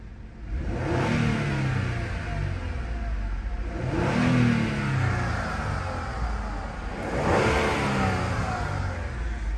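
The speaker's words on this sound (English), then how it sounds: "Give it a couple revs." A 2017 Ford Fusion Sport engine in stock form revs three times in a row, each rise swelling and falling back to a steady mid-pitched rumble, close and moderately loud with no voices.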